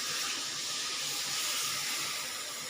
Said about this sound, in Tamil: இப்போ நான் இதில் 1 கிளாஸ் அளவு தண்ணி விடுறேங்க.